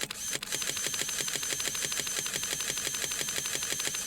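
A camera shutter firing in a rapid, steady series of faint clicks, repeating evenly for several seconds over a constant background hiss.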